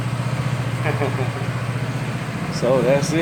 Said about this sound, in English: This thing, when it's idling like that, it's just sitting still, not moving.